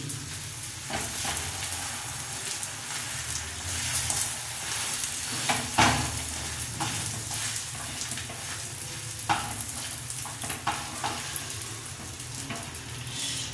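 Egg-coated sandwiches frying and toasting in a pan, a steady close sizzle with crackling pops and occasional soft clicks of turning, continuous throughout with no talk.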